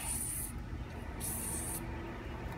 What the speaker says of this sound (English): Now I want to spray the inside.